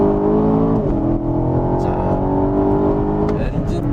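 A 550-horsepower Aston Martin DBX's engine in Sport Plus mode hums steadily from inside the cabin, a sustained rumbling drone with slight pitch shifts, while someone talks over it.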